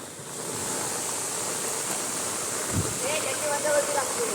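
A rain-fed waterfall in a wooded area roars as steady broadband rushing, with rain in the air and a brief voice near the end.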